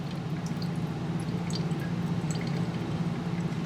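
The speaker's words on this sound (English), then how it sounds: "pour this in and let it strain." Liquid strains through a coffee filter and strainer during a chemical-reactions demonstration, giving a faint, steady trickle with soft scattered drips for a few seconds, no voices.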